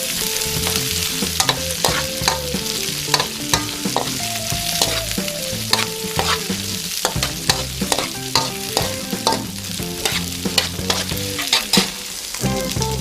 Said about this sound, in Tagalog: Ngayon po ay atin na pong isusunod ang ating onion. Haluin lang po natin itong mabuti.